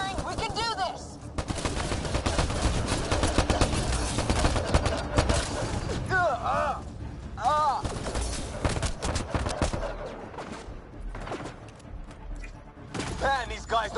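Rapid bursts of sci-fi gunfire in the Mass Effect Andromeda video game, continuous loud volleys with occasional heavier blasts, with people talking over the shooting.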